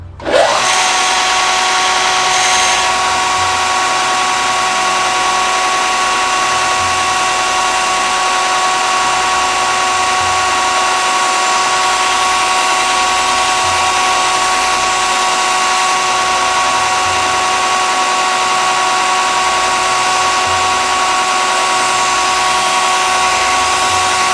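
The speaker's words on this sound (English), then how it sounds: "So I'm telling you, I am just way in love with this grinder." A belt grinder runs steadily and loudly while putting the final edge on a filet knife, a continuous high-pitched grinding whine with a sharp start and no pauses throughout.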